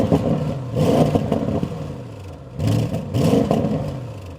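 An Audi RS6 Avant's petrol engine, fitted with a particle filter, revs up twice, each throttle blip rising to a throaty roar and then falling away, close and loud with no talk.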